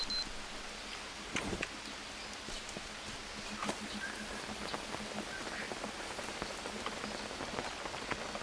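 Steady rain patters on surfaces in the jungle survival game Green Hell, a constant wash of drops with a few sharper taps, moderately quiet and continuous without talking.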